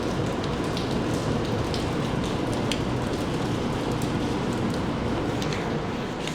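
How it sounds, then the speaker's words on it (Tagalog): Steady rain falls continuously for the whole stretch, a dense, even hiss of drops with scattered close splashes and no talk over it. "Ayun na umuulan."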